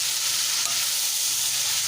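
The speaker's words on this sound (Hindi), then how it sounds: "अब ये जो मेरे पास प्याज टमाटर हैं और सब्ज़ मिर्चें हैं, ये इसमें डाल दूंगी और इसको अच्छी तरह से हम भून लेंगे" Onions, tomatoes and green chillies fry with chicken in a hot pan, giving a steady, close, loud sizzle with no break and no voices.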